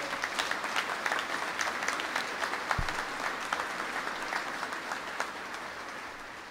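A crowd applauds State Police graduates at their graduation ceremony, a sustained, even wash of many hands clapping at moderate distance, with a brief low thump partway through.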